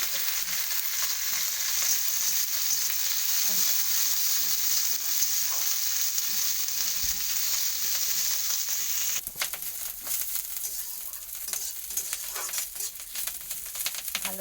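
Neem leaves frying in mustard oil make a continuous close sizzle that turns rougher and more crackly partway through, with stirring scrapes and no talking.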